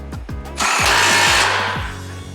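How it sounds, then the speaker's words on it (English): A power tool, likely an impact gun, drives a 17mm socket to tighten a motor mount bolt on a Honda FK8 Civic Type R, with a loud close burst of whirring rattle between short revving pulses. "17mm socket, tighten this down."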